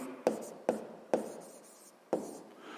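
Handwriting during a sixth-grade math exercise: a pen taps down four times and scratches out brief strokes on paper between them, close-up and distinct against near silence.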